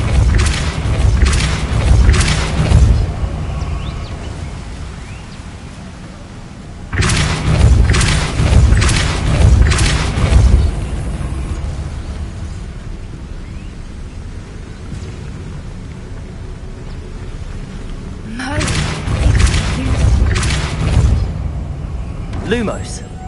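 Depulso spell blasts in the video game Hogwarts Legacy: three loud, deep booming bursts, each a few seconds long, separated by quieter rumbling gaps.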